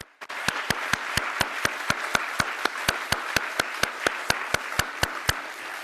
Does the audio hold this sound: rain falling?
no